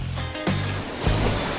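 Ocean waves break and wash continuously on Hiratsuka beach in Shonan, a steady close roar of surf with a couple of swelling surges.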